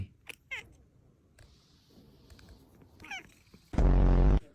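A domestic cat meows several times indoors, short rising calls spread across the clip, followed by a loud, sustained broadband noise near the end.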